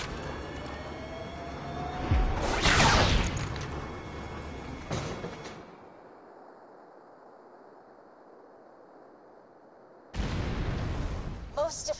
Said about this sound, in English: Please fire the cannon again.